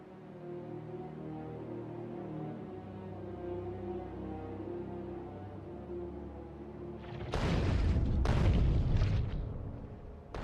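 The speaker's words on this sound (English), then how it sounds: "This artillery just going ham." Artillery firing in the video game Factorio Space Age, heard as a few heavy booms in a quick cluster late on, after a long stretch of steady low factory hum.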